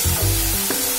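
Tender banana stem fries in a kadai over the flame, giving a steady close sizzle with soft stirring and scraping throughout.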